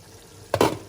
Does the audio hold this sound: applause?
no